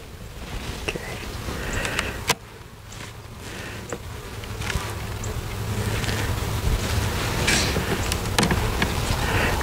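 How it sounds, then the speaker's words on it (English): A dense, steady buzzing of many honey bees close by in an opened hive, droning continuously with a few soft knocks and rustles mixed in. "there's a lot of bees right in here"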